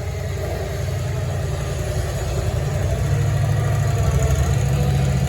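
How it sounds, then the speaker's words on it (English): Small vehicle fitted with a lawnmower engine running steadily in a cluttered shop, a continuous low idling chug with a slight rise in intensity toward the end, fairly close and alone. "it has a lawnmower engine in it"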